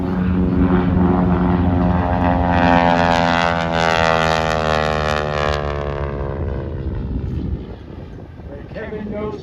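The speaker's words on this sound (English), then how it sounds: "you hear the rap of the propeller, but after he goes by, you hear that throaty roar of that R1340 Pratt & Whitney radial engine" An Old Growler propeller plane with an R1340 Pratt & Whitney radial engine flies past at an airshow: a loud, rapping propeller drone whose pitch drops as it passes, fading into a throaty roar that trails away.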